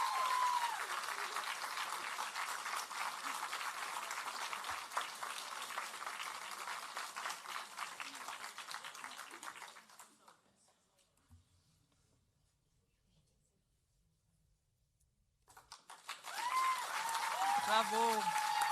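An audience at a national poetry recitation final gives prize-winning students a long, full round of applause that fades into near silence, then a fresh burst of clapping rises again at the end.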